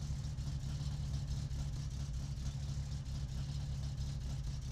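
An untuned, overly rich car engine in My Summer Car idles with the choke pushed in, a steady low throbbing rumble with an even pulsing beat, close and continuous.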